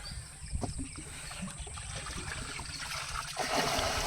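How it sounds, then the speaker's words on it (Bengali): Rainwater is bailed out of a small wooden fishing boat on the Ganges. The sounds are soft, irregular splashes and trickles of water being scooped and poured, quiet against the faint open-air background. "নৌকার জলগুলো তুলে নিচ্ছে আর কি ফেলছে"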